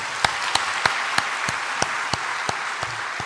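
A church congregation claps for a trumpet player at a Sunday service, a steady rhythmic beat of loud, evenly spaced claps over a busy background of many hands.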